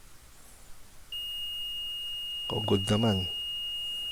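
Continuous steady beep from a multimeter in buzzer continuity mode, probes across a transformer's secondary winding during repair of a Xenon AX 112 multimedia speaker; someone speaks briefly over the tone partway through.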